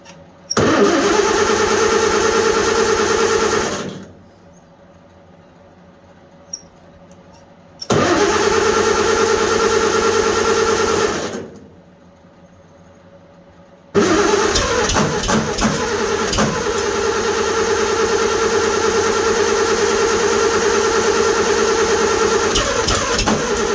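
A tractor engine is cranked and catches twice, running briefly and cutting out each time, then starts a third time and keeps running loudly and steadily.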